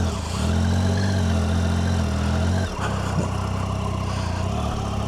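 A motorcycle engine running steadily as a ride begins, a loud, continuous low rumble with a brief dip partway through before it carries on.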